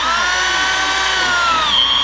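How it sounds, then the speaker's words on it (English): A handheld power drill from a remote-home construction build runs steadily for about two seconds, a loud continuous high whine with slight pitch wavering and no talk over it. "that drill seems to be working a little better"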